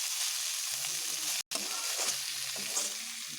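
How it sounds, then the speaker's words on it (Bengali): Pumpkin curry sautés in a pan with a steady sizzle and a few light stirring scrapes. The sound breaks off for an instant partway through and then carries on at the same level. "আরও একটু ভালোভাবে কষিয়ে নিচ্ছি"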